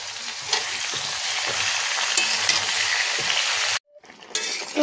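Food sizzles and fries steadily in a pan on a gas stove as turmeric and salt are added, with a clink of utensils near the end and a brief pause before the sizzle resumes.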